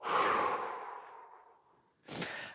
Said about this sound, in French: Et quand on n'en peut plus, on expire.